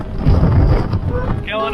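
Strong gale wind roars across the deck of a 33 ft sailboat offshore, steady and loud throughout, with water rushing against the hull and a brief higher whine near the end.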